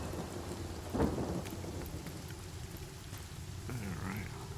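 Rain pours steadily in the video game Divinity: Original Sin, with a rumble of thunder swelling briefly near the start, all held at a low, distant-sounding level beneath the downpour.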